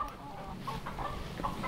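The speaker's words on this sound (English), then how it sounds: "That rooster likes the cheese balls." A rooster on a farm with alpacas and donkeys clucks close by in several short bursts over a low background murmur.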